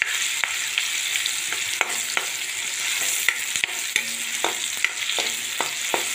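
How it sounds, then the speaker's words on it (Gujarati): Onion with green and red capsicum sautéing in a pan, giving a continuous bright sizzle with frequent clicks and scrapes from stirring throughout and no one speaking. "આપણે ડુંગળી, કેપ્સિકમ બધું સરસ સંતરાવા દઈશું આપણે"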